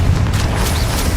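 Confringo blasting spell explosion in the video game Hogwarts Legacy, a dense low booming burst that fills the moment loudly and steadily, with fiery crackle above.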